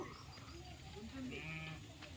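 Sheep bleat a few times at close range in a rural outdoor spot during a hot midday family outing, wavering calls over steady background noise and low murmur.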